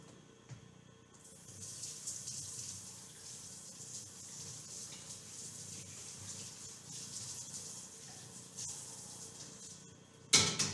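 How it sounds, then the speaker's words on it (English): Kitchen tap running over a strainer being rinsed, a steady close hiss of flowing water for about nine seconds before a sharp clatter at the end. "I'm going to dump those out, give this a rinse, and then place it over a bowl"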